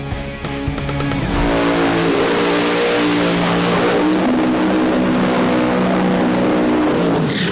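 A first-generation Camaro drag car with a Pro Line Hemi at Famoso Dragstrip revs hard and launches, a loud roaring engine climbing in pitch with a brief tyre squeal, close and sustained, with no talk.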